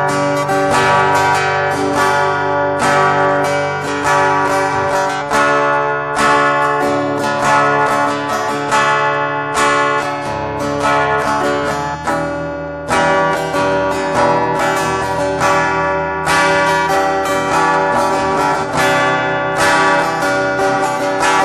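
A guitar recorded through the mic input of a V8 sound card plays a steady run of plucked notes and chords, clear and close, continuing without talk for about twenty seconds.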